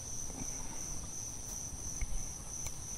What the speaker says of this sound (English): you can hear there's a lot of crickets, a lot of bugs around here